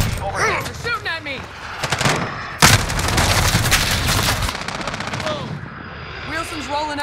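Gunfire in Call of Duty: Modern Warfare team deathmatch: dense automatic rifle bursts and a sharp loud shot, with shouted voices and radio chatter mixed through the battle.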